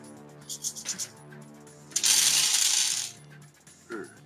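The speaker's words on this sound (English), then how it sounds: "That sounds like so much fucking dice." A large handful of dice rolled onto a table, first a few light clicks, then a loud rattling clatter for about a second, followed by scattered settling taps over a faint musical background.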